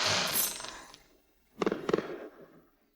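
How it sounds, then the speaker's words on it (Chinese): Fireworks at a palace celebration give a long hissing rush that fades, then a cluster of close crackling pops and bangs, moderately loud with no talk. "这场烟花甚好"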